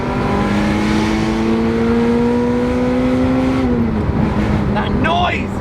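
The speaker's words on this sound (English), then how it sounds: "this noise of this engine just behind my ear" A Ferrari 355 Spider's engine revs hard and holds a high, steady roar up close, then drops in pitch as it eases off, with a brief voice near the end.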